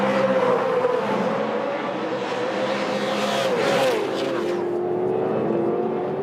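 A race car at speed with its engine droning and pitch sliding down and back up under gentle throttle, wheel spin chattering in the background, while a commentator's voice runs over it.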